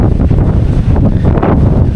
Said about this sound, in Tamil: காற்று பயங்கரமாக அடிச்சிட்ருக்கு